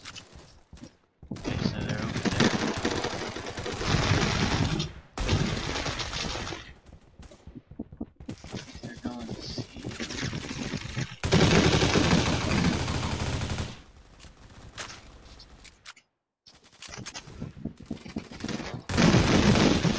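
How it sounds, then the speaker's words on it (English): Gunfire in the online shooter Phantom Forces: dense bursts of automatic weapon fire come in several loud volleys, with short pauses between them and light talk mixed in. "Oh, where was I getting shot from?"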